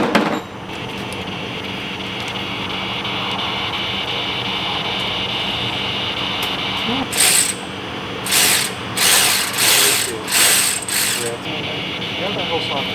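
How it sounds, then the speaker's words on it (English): A ratchet turning a deep well socket on a long extension during timing belt work on a 2002 Toyota Tacoma, steady mechanical clicking underneath, then several loud bursts of rapid ratcheting near the end, with people talking. "Deep well socket on a long extension."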